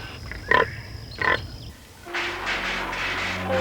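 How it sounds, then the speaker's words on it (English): Pigs grunting in a confinement farm setting, two short bursts in the first seconds followed by a denser stretch of overlapping animal noise, moderately loud. "Pigs have strong natural instincts, rooting, nest building, caring for their young."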